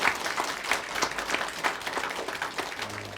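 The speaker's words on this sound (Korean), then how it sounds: "하나님 앞에 감사의 영광의 박수를 한번 올려드리도록 하겠습니다" Congregation applause during a church planting thanksgiving worship service at Sori and Hyanggi Church, a steady crowd of hand claps sustained throughout, fairly close and even, with no talk over it.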